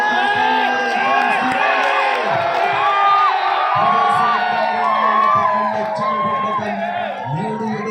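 Crowd at an Onam tug-of-war contest cheers and shouts continuously, with loud overlapping voices, whoops and bellows sustained throughout at close range.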